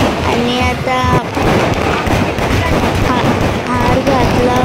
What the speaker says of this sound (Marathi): हार घातल्यानंतर फटाके वाजवले